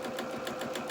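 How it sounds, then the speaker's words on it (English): A sewing machine stitches a fabric seam in rapid, even repeated pulses, close and faint, running steadily with no talk. "I'm just keep rolling the fabric towards me so that I can sew that nice and neat"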